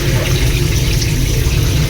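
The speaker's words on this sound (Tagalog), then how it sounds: "Buti na lang, malakas yung tulo ngayon." Strong tap water runs steadily into a kitchen sink in an apartment during dishwashing, a loud continuous rushing wash with no pauses and no voices.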